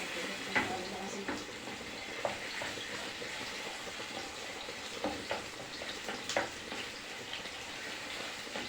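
Garlic frying in about two spoonfuls of oil in a pan gives a steady, faint sizzle with occasional soft stirring clicks and scrapes running throughout.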